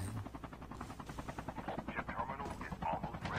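A helicopter rotor chops in a steady, pulsing rhythm during a Call of Duty Mobile battle royale match, loud and continuous with other game noise underneath.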